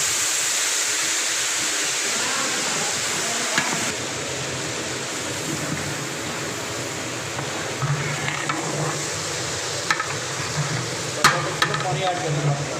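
Spices frying in a large pot of dal chawal as water is added, a steady soft sizzle with faint metallic stirring and scraping clicks, fairly quiet.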